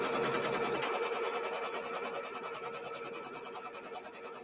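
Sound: sewing machine stitching out a quilt block border

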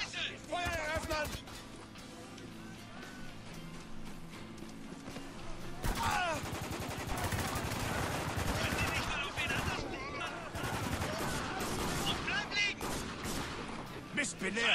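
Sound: gunshots in a video game

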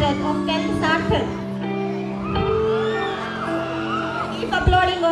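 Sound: school audience applauding and cheering

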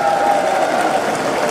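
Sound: audience applause for a district group

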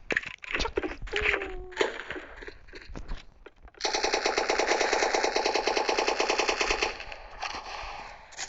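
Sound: gunfire in a video game

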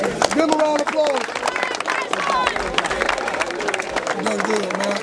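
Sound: applause for the boxer after the fight

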